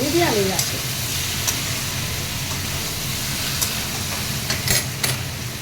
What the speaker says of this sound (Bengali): কষিয়ে নিচ্ছি। এটা কিন্তু আঁচ কমানো আছে, খুব কমানো না, লো তো মিডিয়ামেই আছে।